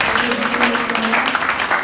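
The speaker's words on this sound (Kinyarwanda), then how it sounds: "Amashyi kwa Yesu menshi cyane." A church congregation claps steadily through the whole moment, with sustained applause carrying under voices and a held musical tone.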